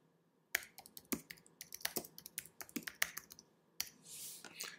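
Computer keyboard typing a search query in Google Docs: a quick, irregular run of close, crisp key clicks with a brief pause before a final burst, with no talking.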